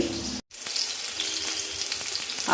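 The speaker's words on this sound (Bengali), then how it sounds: "করলাটাকে হালকা ভেজে নেবো" Strips of bitter gourd frying lightly in hot oil, a dense continuous sizzle with a brief cut near the start, close and fairly loud with no talking.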